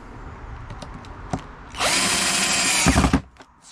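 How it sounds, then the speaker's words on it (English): A power drill drives a screw into plywood while building a boat at home, a steady close whir for about a second and a half that ends in a brief strained burst, preceded by faint clicks and handling noises. "I'm literally just using a drill."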